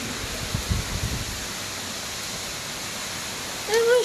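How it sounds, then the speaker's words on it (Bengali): Steady dense hiss of heavy, windy rain pouring throughout, with a brief louder rustle near the end. "এতটা জোরে বৃষ্টি এসেছে"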